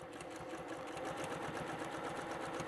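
A sewing machine stitches Insul Bright insulation while making a hot iron travel cover, giving a steady, even mechanical whir and rapid needle chatter that runs quietly and unbroken.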